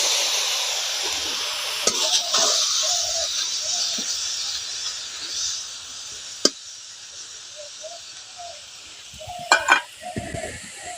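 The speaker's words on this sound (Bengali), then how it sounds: "এখন কড়ার মধ্যে আমলকির বাটাটা দিয়ে দিচ্ছি।" Amla paste hitting a hot frying pan gives a steady sizzling hiss, with a few sharp utensil taps and scraping stirs coming through now and then, and no voices.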